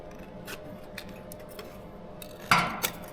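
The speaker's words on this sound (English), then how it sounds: "Good old tin snips for the win most of the time." Tin snips cutting sheet metal during bodywork on a 1949 GMC roadster: a few faint, scattered clicks over a quiet background, then a louder, crisp metallic snip with a second smaller one close after, near and alone without talk.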